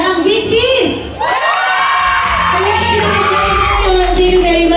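Fans at a live concert scream and cheer loudly and continuously, high shrieks and whoops layered over a big crowd roar, with a voice shouting through a microphone over it.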